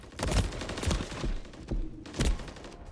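Gunfire rattles in a Modern Warfare 3 open beta multiplayer match, several bursts of close, punchy shots with booming low thumps, coming in irregular clusters over a few seconds.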